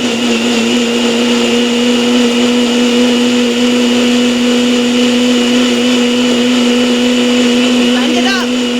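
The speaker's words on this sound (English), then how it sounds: "you put it in the blender, or in this case, I'm using a NutriBullet" A NutriBullet blender blends soaked sea moss into gel, its motor holding a loud, steady droning whine close up for nearly nine seconds without a break.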